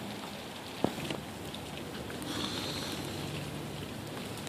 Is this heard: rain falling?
yes